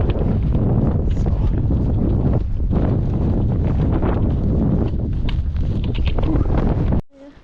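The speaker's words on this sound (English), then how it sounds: "that wind is bitter cold" Bitter cold wind on a mountain roars steadily against the microphone in loud, gusting buffets before cutting off abruptly near the end.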